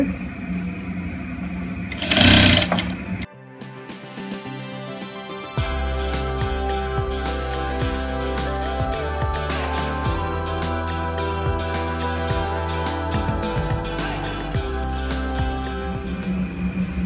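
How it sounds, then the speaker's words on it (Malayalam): After a loud burst and a short pause, a sewing machine whirs steadily in a fast rhythm as it stitches the folded hem of a ladies top. The sound is close and even throughout. "ഇങ്ങനെ മടക്കി വെച്ച് അടിച്ചെടുക്കുകയാണ് നമ്മൾ"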